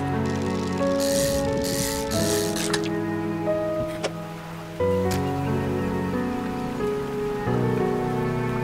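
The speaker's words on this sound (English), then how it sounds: "Oh, it's raining." Steady rain patters and rattles in the fishing video game DREDGE, layered under calm, sustained game music that continues throughout.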